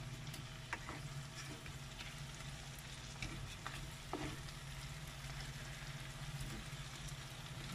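Siomai and tuna pies fry in oil in a pan, a soft, steady sizzle held low throughout with a few light clicks and taps of turning, no voices.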